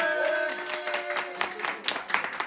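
A French TV studio audience claps in a broad, ragged burst that thins into scattered claps, with bright tonal sounds from the set carrying over the start.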